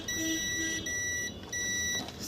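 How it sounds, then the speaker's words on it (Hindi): A multimeter sounds its continuity beep while probing a shorted 12V line on a Toyota Etios engine control module, a loud electronic tone in three long steady bursts separated by short gaps, alone without talk. "तो ये बीप आ रही है।"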